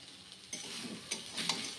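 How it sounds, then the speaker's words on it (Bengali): Eggplant slices frying in oil, a faint, soft sizzle with a few brief scraping or stirring bursts near the pan, quiet and close, no speech. "তো বেগুন ভাজা কতগুলো তেল দিয়েছি দেখো"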